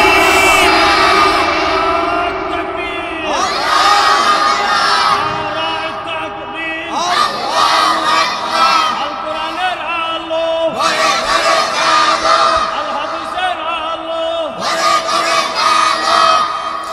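A large crowd shouts the takbir response in unison, several loud, swelling roars of many voices that rise, hold for a few seconds, and drop away between calls.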